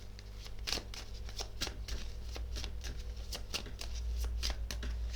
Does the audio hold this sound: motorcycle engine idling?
no